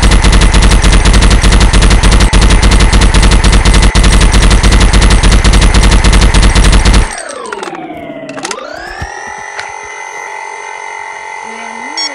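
Automatic AR rifle fire in a video game, a dense rapid stream of loud shots for about seven seconds, then it stops and a fainter electronic whine with shifting pitch takes over.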